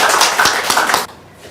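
Brief burst of audience clapping at a seminar lecture, close and fairly loud for about a second before cutting off to near quiet.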